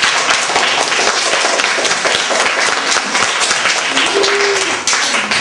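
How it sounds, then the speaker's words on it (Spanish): Applause for a student at a primary school class event, steady dense clapping from a group throughout, fairly loud and continuous. "Vamos a darle a ella un aplauso"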